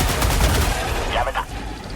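Rapid cannon fire in Helldivers 2, a dense burst of booming shots close and loud for about a second, followed by a voice briefly speaking over the fading rumble.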